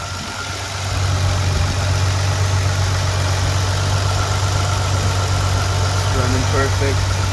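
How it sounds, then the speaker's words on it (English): A 2010 Nissan GT-R with a warm engine idles steadily, its low droning hum settling in after a brief quieter start and holding constant and close, with a few faint higher sounds near the end. "Let's hear the motor here."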